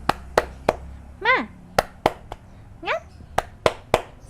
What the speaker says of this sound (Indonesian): Kita tepuk semangat dulu ya anak-anak solih solihah